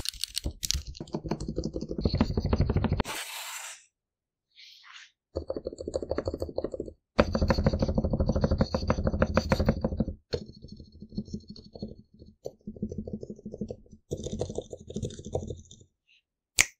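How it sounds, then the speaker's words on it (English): Keys clatter on a Razer Huntsman V2 TKL keyboard after switch wire removal, typed in dense, close bursts with brief pauses between runs, with no talking. "I did a quick key test, followed by reassembling the Razer Huntsman V2 TKL"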